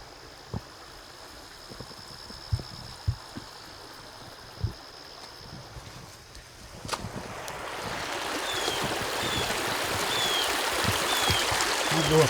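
Water runs over the top of an old pond dam, a soft steady rush that swells louder toward the end, with a few scattered knocks and footsteps near the start.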